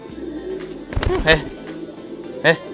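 Pigeons in a home loft give two throaty, rising coos a little over a second apart, close and fairly loud, with soft flapping and shuffling between calls.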